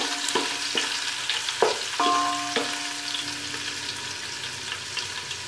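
Crushed garlic fries lightly in a pan with a continuous close sizzle, broken by several sharp spatula taps and scrapes early on, then settling into a softer even hiss.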